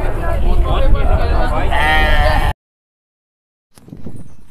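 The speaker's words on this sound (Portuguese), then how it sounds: "Caprinos e ovino. Bode e ovelha aqui de Campina Grande." Goats and sheep bleat repeatedly at a livestock market in Campina Grande, Paraíba, loud and close amid crowd chatter and people talking, before the sound drops out and then resumes as general noise.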